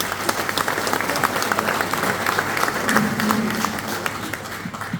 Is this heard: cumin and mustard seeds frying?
no